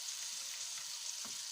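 Chicken sizzles steadily as it fries in oil with tomatoes, garlic-ginger paste and green chillies, a continuous close bright crackle with a few soft stirring knocks and no voices.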